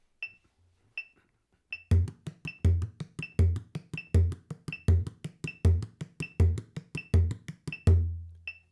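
A drum beats in a steady, even pulse against a sharp, high metronome click set off the main beat, the clicks first alone a few times, then joined by the loud drum hits.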